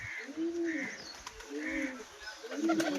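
Pigeons coo in soft, repeated low rolling phrases, several calls spaced across a few seconds, in a village courtyard where they are fed grain and water, with faint background noise.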